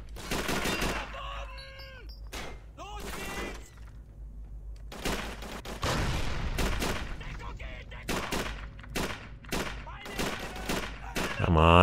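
Repeated bursts of gunfire from a gun in the 2006 PlayStation 3 video game Call of Duty 3, sharp shots in clusters throughout, loud and close, with a player talking in between.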